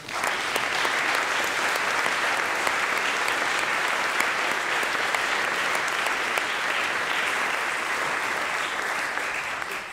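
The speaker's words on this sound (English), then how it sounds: "those should deserve some applause" Steady, full applause from a lecture hall audience at the Einstein Lectures 2018 on gravitational waves, a dense wash of clapping that stays even and close for the full ten seconds.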